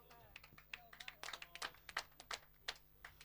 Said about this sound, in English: the applause you hear in the background is for a brilliant shot that Zelda Siebert has played